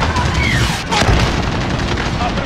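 Missile strike in Call of Duty: Modern Warfare (2019), a loud close explosion with a rumbling boom over continuous battle noise, radio-style voices talking around it.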